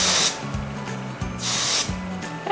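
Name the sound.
spraying blue Colorista hair colour spray onto hair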